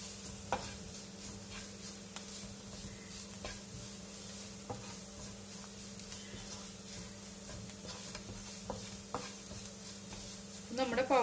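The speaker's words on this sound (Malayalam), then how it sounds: "മഞ്ഞൾപ്പൊടി Kashmiri chilli powder pepper powder garam masala നമുക്ക് മസാല പൗഡേഴ്സിന്റെ റോ സ്മെല്ല് പോണത് വരെ നന്നായിട്ട് സോട്ട് ചെയ്തെടുക്കാം" Turmeric, Kashmiri chili, pepper and garam masala powders sautéing in a pan for a soya chunk curry, with steady soft sizzling, occasional stirring scrapes and clinks of a utensil, low and continuous throughout.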